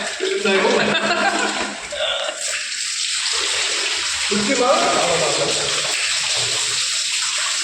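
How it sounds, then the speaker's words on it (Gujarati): Water pouring from above into a well, a steady loud rushing splash that continues throughout, with people talking over it. "ઓરિજિનલ જો લાઈવ પાણી પડે છે ઉપરથી"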